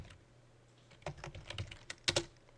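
A command is typed on a computer keyboard in Rhino 3D modeling software: quiet, close keystrokes, first sparse and scattered, then a quicker cluster of clicks near the end.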